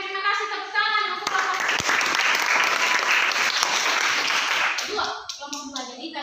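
Classroom applause for a student group after a biology lesson presentation, a loud, dense burst of hand clapping lasting about four seconds, with a teacher's voice heard before and after it.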